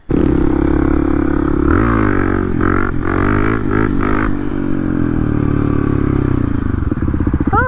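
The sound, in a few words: Kawasaki KLX300 dirt bike riding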